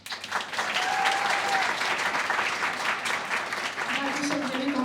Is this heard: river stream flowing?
no